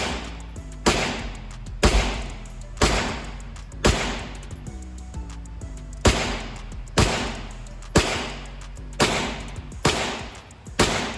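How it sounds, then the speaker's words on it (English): A Taurus G3 TORO pistol firing super suppressed ammo, a steady series of about a dozen sharp, evenly spaced shots, each with a short decaying tail, loud and close with no talk over them. "So obviously the super suppressed sounded a lot better than the regular ammo."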